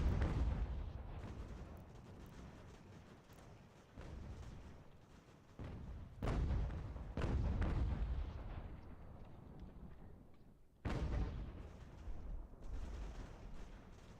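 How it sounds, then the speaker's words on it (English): Artillery bombardment in the strategy video game Ultimate General: American Revolution: a string of deep, heavy booms and blasts that strike at irregular intervals, each followed by a rumbling decay, with no voices. "I don't like that my troops are just sitting in the open and taking enemy artillery fire"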